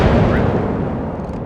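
A battleship's heavy guns fire in World of Warships, an Alabama in a naval battle: one loud, deep booming blast that rolls on and slowly decays across the whole clip, with no talking.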